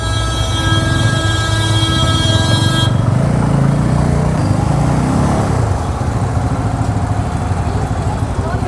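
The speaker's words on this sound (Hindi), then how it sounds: "इस नई बजाज पल्सर N250 की टेस्ट राइड कर ली" A 2024 Bajaj Pulsar N250 V2 motorcycle rides through traffic. A loud, constant roar of engine and rushing wind fills the whole stretch, with horn-like tones from surrounding vehicles in the first few seconds.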